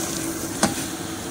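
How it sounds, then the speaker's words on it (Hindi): Tomato paste goes into sizzling mutton biryani masala in home cooking, giving a steady frying sizzle with one brief louder splash partway through and no talking. "अब हम इसके अंदर टमाटर की पेस्ट डाल रहे हैं"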